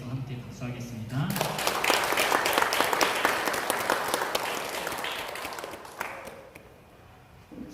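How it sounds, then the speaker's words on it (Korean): A congregation at a Sunday morning service in a Korean Methodist church claps steadily for about five seconds after brief talking, then the applause thins and dies away, fairly close and full. "함께 박수하겠습니다"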